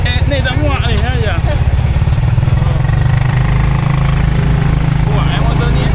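Motorcycle engine idling steadily close by, a low continuous rumble under people chatting throughout, in a village setting.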